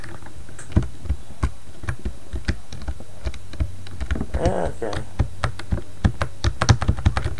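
Rapid, uneven computer keyboard key presses while playing a spooky game, loud and close, clattering steadily throughout with a short spoken word in the middle.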